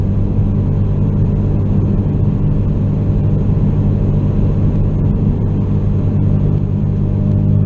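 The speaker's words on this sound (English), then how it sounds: "so now I'm going 66 miles per hour. I'm in 5th gear. No throttle here. This is just, that's the sound I get." Cabin of a 2016 Ford Focus RS cruising at 66 mph in fifth gear with no throttle: a loud, steady low drone of engine and road noise with a faint whooshing of wind, continuous and unchanging.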